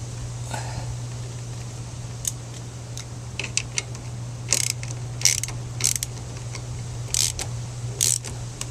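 A ratchet tightens an alternator bracket bolt on a 1984 Honda Goldwing motorcycle. Irregular metallic clicks come in short clusters over a steady low hum, close and fairly quiet, with no speech.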